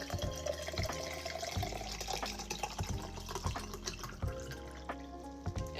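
Lemon or lime juice poured into water, a faint steady trickle with small splashes and drips, close and quiet throughout.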